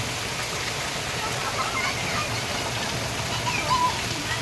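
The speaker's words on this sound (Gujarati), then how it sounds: "ગાંધીનગરમાં આજે વરસાદની" Heavy rain falling in Gandhinagar, a dense, steady hiss of drops on surfaces that fills the whole scene evenly, fairly loud and continuous without pauses.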